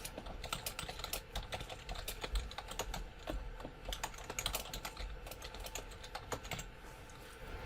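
Steady typing on a computer keyboard, a quick run of close, crisp key clicks with a few slightly heavier strokes, alone in a quiet room.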